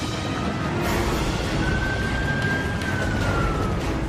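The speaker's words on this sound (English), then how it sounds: "The authorities make the decision to sound the alarm sirens" Alarm sirens sound over Hawaii to warn of an eruption of the Hualalai volcano: a faint, wavering siren tone rises slowly and sustains, half-buried in a dense, steady roar of low rumble and noise.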